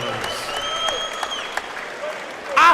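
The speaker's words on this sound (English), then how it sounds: "could we please have a massive round of applause for both of our" A crowd applauds both boxers after a six-round heavyweight fight, Boma Brown against Will Howe. It is a steady wash of clapping at moderate level, with whistle-like tones and a louder burst at the end.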